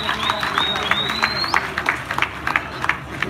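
Audience clapping at the inauguration of a presidential campaign council, steady scattered applause from a crowd with a whistle-like tone early on and sharper individual claps toward the end.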